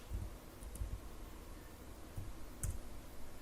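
A few light, scattered clicks of typing and mouse or key presses on a computer keyboard, very faint and quiet against low background noise, with no talk.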